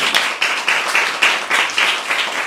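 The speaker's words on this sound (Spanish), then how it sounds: "pues otro fuerte aplauso" Audience applause closing a debate session at the Delas Fest on women in urban art: a short burst of crisp hand claps, close and loud, with a few stronger pulses standing out in the wash.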